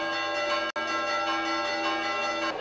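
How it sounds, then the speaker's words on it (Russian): Church bells of the Church of Saint Eulalia in Cagliari ring steadily in the evening with a rich, sustained metallic tone, layered strikes blending together; a momentary dropout briefly cuts the sound. "на звоннице костела Святой Евлалии вечером 6 января стали звонить колокола"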